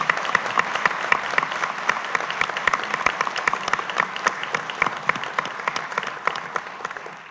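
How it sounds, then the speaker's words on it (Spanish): An audience at a university talk applauds former Dominican Republic president Leonel Fernández, a steady, dense clapping from a sizeable crowd that holds for several seconds before thinning slightly at the end, with no talk over it. "Leonel Fernández, para quien pido un fuerte aplauso"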